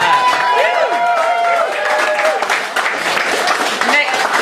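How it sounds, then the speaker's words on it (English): Applause and cheering from a choir performance audience in a hall, a dense wash of clapping with crowd noise and some voices, steady and loud throughout. "Huge round of applause for the choir."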